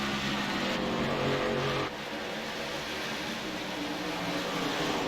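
K&N Series race cars roar back up to speed on a green flag restart at Phoenix, a loud, dense engine drone that surges, dips briefly, then climbs again with the field close by.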